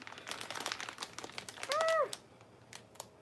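Childproof plastic packaging crinkles and rips open in a burst of close, sharp crackling and tearing, briefly overlaid by a short squeaky tone.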